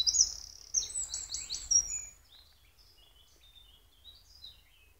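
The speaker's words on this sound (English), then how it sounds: "All you can hear is the birds singing." Birds chirp and trill in quick bursts close by in woodland near Avebury in June, then fainter calls continue sparsely against a quiet, still background.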